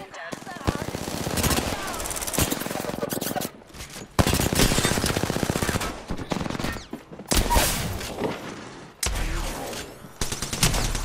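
Video game gunfire comes in long, loud, dense bursts of rapid automatic shots, broken by brief pauses, with players talking over the shooting.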